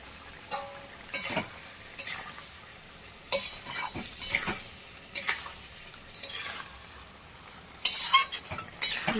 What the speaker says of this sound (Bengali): বন্ধুরা এই যে মাছও দিয়ে কষিয়ে নেবো।